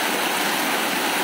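Rainwater rushing through a flooded residential area in Rangpo during a downpour, a loud, constant broadband roar of flowing water close by with no talking.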